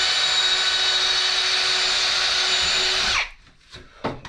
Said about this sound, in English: I'll just drill holes a little bit back from the edge where I'm cutting.